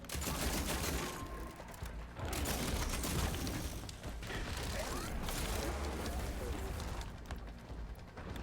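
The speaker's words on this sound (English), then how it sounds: "Who's shooting that?" Gunfire in Horizon Forbidden West, dense rattling bursts of shots and mechanical clatter filling most of the stretch, with brief lulls between volleys and loud, close impacts.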